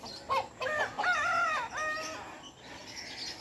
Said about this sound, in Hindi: ये माशाल्लाह से मुर्गी है जी